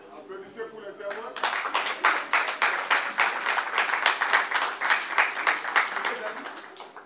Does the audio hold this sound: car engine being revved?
no